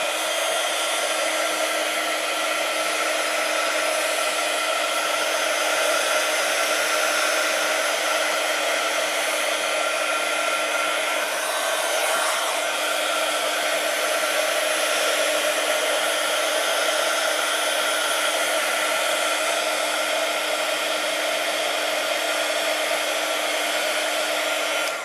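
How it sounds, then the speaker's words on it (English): A heat gun blows a continuous, loud, even hiss of hot air over tea-dyed paper, steady for the whole stretch with no talking. "I normally give it just a little bit of a dry with my heat gun first, just to take some of the moisture out"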